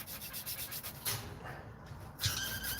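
Sandpaper rubbing back and forth in quick rhythmic strokes, a close, scratchy rasp that pauses briefly and resumes, with no talking over it.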